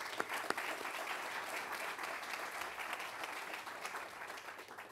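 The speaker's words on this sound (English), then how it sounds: "I think it deserves a round of applause." Outdoor crowd applause at the reopening celebration of Heron's Head Park, with city and port officials present. Soft, distant, continuous clapping runs through the whole stretch with no talking over it.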